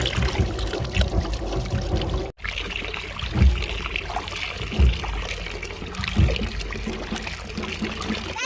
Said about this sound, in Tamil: ஒரு கேரட்டாக பொறுமையாக கழுவி எடுத்துக்கங்க